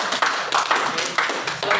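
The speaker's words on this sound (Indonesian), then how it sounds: "Tepuk tangan." A small group in a classroom claps together, quick uneven bursts of handclaps that swell and fade over a couple of seconds.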